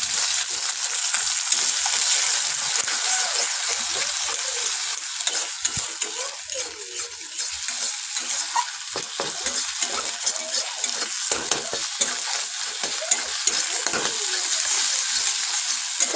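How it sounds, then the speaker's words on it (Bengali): An egg fries in hot oil in a wok with a steady, close crackling sizzle, broken by occasional scrapes and clinks of stirring, with no talking. "তো চলো এবার এর মধ্যে তেল দিয়ে দেবো, দিয়ে ডিমটা ভেজে নিই"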